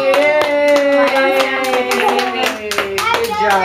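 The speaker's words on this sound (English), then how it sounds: "You did it, Joe! Clap!" Several people clap rapidly and close by at a child's first birthday party, with cheering voices mixed over the applause.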